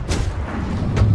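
Cannon fire at the Kraken in the pirate video game Sea of Thieves, two quick heavy booms about a second apart over a rumbling, noisy game background.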